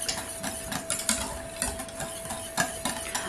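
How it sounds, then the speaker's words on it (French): A spoon stirring a cauliflower gratin mixture in a bowl, faint and close, giving a soft run of irregular scrapes and light clinks with a steady thin tone beneath. "Et je mélange."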